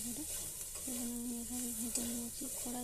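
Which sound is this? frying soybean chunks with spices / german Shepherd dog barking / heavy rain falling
frying soybean chunks with spices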